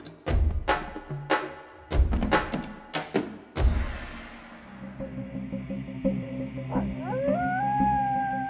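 Several loud percussive hits give way to rising, wavering howls, with a second high howl joining near the end, under a low droning background.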